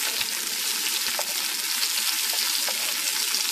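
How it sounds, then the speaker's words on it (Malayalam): Sliced shallots and garlic sizzle steadily in a pan over a low flame, a dense continuous crackle of frying with faint stirring clicks and no talk. "ഉള്ളി ഒരു ഏതാണ്ട് ബ്രൗൺ ആവുന്ന വരെ ഒന്ന് ഇളക്കി കൊടുക്കുക."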